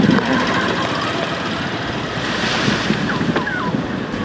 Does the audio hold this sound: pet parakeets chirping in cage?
no